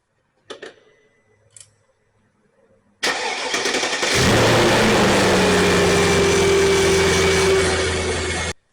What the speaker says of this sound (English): Let's say when doing the oil change to start the vehicle, to let it warm up for 3 to 4 minutes